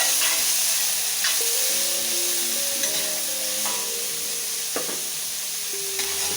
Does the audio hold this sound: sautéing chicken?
yes